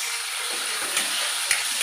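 Onions sautéing in a pan after garlic has been browned, for chicken afritada; a steady, close hiss of sizzling fills the clip, with a couple of soft stirring knocks.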